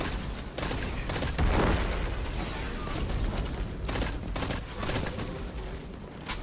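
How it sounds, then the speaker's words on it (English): Pulse rifle firing in the Destiny 2 video game, rapid bursts of loud gunfire with mechanical clicks running nearly continuously, brief gaps between bursts. "Gun feels excellent, by the way. It's got very manageable recoil."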